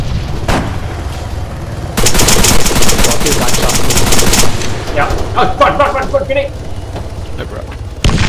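Machine-gun fire from the Arma 3 video game rattles in a loud sustained burst, followed by scattered shots further off, while players talk over it.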